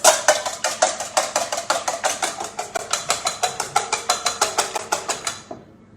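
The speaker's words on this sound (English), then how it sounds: "what we need right now is 2 eggs. And then we're going to whisk them up." Whisk beating two eggs in a bowl for apple fritters, a rapid, steady series of close clinking taps, about four or five strokes a second, that stops near the end. No talk over it.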